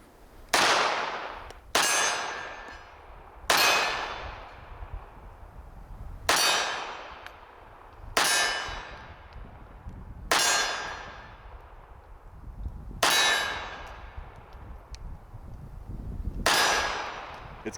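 Eight shots from a Walther CCP M2 .380 pistol fired left-handed at an outdoor range, each a sharp loud crack with a ringing tail, spaced unevenly about one to three seconds apart.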